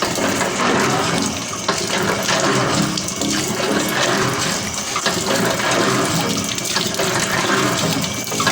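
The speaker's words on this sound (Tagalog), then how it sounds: "napalabas na rin namin ang tubig guys" Water gushes steadily out of an irrigation pipe at night on a farm, a loud, continuous rushing flow with no pauses and no talk.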